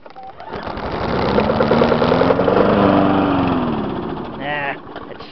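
A brand-new gasoline lawn mower engine sputters up, runs roughly with a loud buzzing drone that swells and fades unevenly, then winds down near the end.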